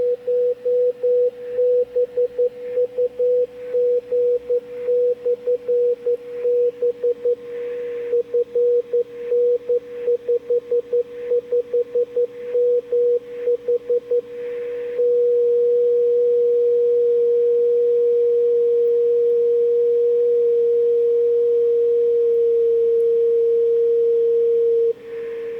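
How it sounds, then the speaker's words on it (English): A 10 GHz radio beacon received through a transverter sounds as a steady, clear single-pitch tone. It is keyed in rapid on-off bursts for about fifteen seconds, then holds as an unbroken continuous carrier, with faint hiss beneath. "And so we can listen to the beacon."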